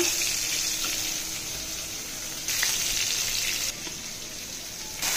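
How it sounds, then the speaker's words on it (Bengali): Fish-curry spice paste of garlic, ginger and cumin frying in a pan for pangas fish, a soft continuous sizzle that rises in two bursts and settles back, with no voices. "পেস্টকে ভাজি করে নেই"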